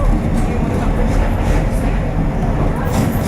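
A London Underground tube train heads for Bank, its loud steady rumble and rattle filling the carriage from close by. No one speaks.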